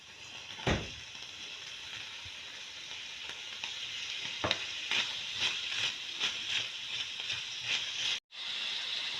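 Chopped onion and chicken breast sizzle loudly in a hot pan, a steady crackling hiss punctuated by a few sharp clatters of stirring.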